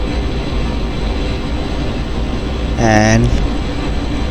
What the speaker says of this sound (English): I've turned on my afterburner so that I can gain the speed rapidly